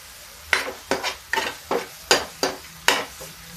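Tomato and coriander being stirred in a pan for a zero-oil arhar dal, with seven distinct spoon scrapes spaced about half a second apart over a soft simmering sizzle. Close, moderately loud, and no one speaks.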